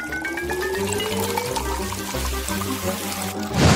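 Sprite poured into a glass in a kitchen, a steady fizzy liquid stream with a rising pitch as the glass fills, loud and close, ending in a sharp splashy burst.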